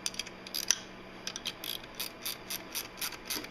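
Ratchet wrench tightening the power steering pump bracket on a small-block Ford 347 with a belt drive kit, a series of crisp, close clicks in short irregular bursts.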